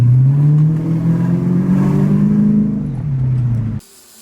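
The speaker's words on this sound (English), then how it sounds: "So I just left the exhaust shop, and boy, this thing is screaming now." Lexus SC400 with a new aftermarket exhaust revs close by, a loud steady low engine drone that holds and rises slightly before cutting off abruptly near the end.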